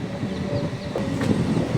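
A MEMU passenger train pulling out of Aravalli station, with a steady loud rumble and clattering of wheels and carriages heard from on board, continuous throughout.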